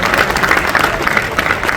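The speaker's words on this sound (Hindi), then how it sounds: "तालियां बजा दीजिए।" A studio audience claps for a TV comedian at an awards stage event, brief dense applause with rippling peaks and no talk.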